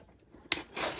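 Scissors snip through a cardboard shipping box in two short, crisp cuts about half a second apart, close and fairly loud, with a brief rustle between them and no talking.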